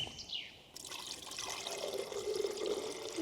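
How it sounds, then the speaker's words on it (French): Water is poured into the reservoir of an espresso machine in a forest cabin, making a steady, close trickling splash that runs for a few seconds with no voices. "Je vais mettre un petit peu d'eau parce que je crois que j'ai plus d'eau"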